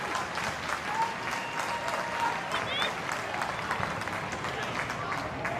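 Central Coast Mariners fans cheer and applaud at an A-League football match against Auckland FC, a sustained, even crowd roar with a commentator talking over it.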